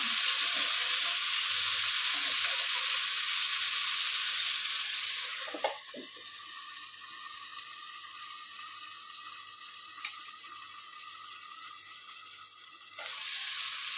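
Chopped tomato and spinach fry and get stirred in a pan with a bright sizzling hiss, which drops to a quieter steady fry partway through, with a few soft utensil knocks.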